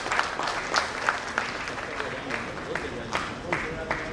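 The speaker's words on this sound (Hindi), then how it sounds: "एक बार आप अपने लिए और इन शोरा के लिए जोरदार तालियों से इस्तकबाल करें" Applause from the audience at a mushaira poetry gathering during a film and literary festival in Bhopal, a steady wash of many hands clapping at moderate distance, with a few sharper bursts throughout.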